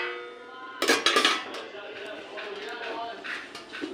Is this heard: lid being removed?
yes